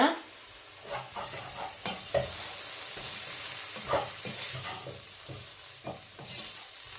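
Masi sambal, a Sri Lankan dried-fish relish, is stirred after lime juice goes in, giving repeated close scraping and mixing strokes with a faint steady hiss underneath and no talking.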